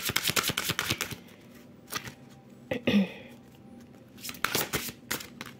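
Tarot cards riffle and snap in quick bursts, shuffled close by in a quiet room, with separate soft flicks and taps as single cards are drawn and laid down between the shuffles.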